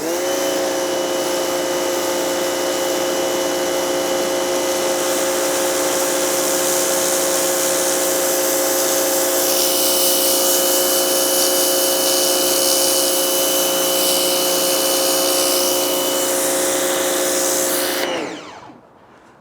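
A Turtle Wax TW135 1800W pressure washer sprays through its turbo nozzle, a loud, steady motor whine and hiss running continuously, close by, before cutting off abruptly at the end.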